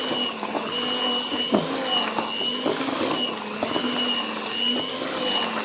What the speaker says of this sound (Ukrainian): Оце вже масло до купи збивається, маслянка відходить